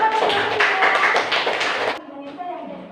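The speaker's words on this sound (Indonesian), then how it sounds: "tepuk tangan juga." Students in a primary school classroom clap together in a quick, dense burst for about two seconds, fairly near, before it cuts off and a voice speaks.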